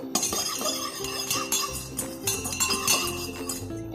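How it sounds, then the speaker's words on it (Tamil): A spoon clinks repeatedly against a glass while stirring lemon juice, quick irregular taps with bright ringing chimes close by and no one speaking. "இப்போ நான் கலக்கிக்க போகிறேன்."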